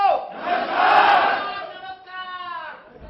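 A crowd of about 200 people shouts a greeting together at a training program, a loud, swelling unison roar lasting a few seconds, with one voice ringing through near the end.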